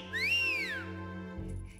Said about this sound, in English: You know how to whistle? Just put your fingers in your mouth and blow.